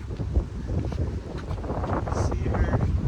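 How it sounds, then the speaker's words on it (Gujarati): Strong wind buffets the microphone outdoors, a steady low rumble that fills the clip, with faint voices and other sounds under the gusts. "અહીંયા પવન તો બહુ છે, બહુ મજા આવે છે."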